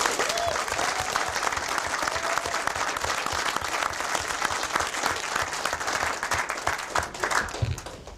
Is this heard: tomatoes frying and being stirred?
no